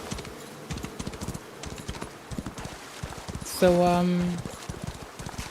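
Horse hooves clip-clop steadily in a video game, with a brief whinny midway; a person talks over the rhythmic footfalls.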